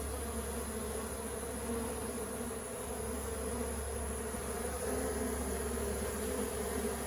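Honey bees fly in to gather around their queen and join a swarm, a dense, steady buzzing drone that holds close and loud throughout with no pauses.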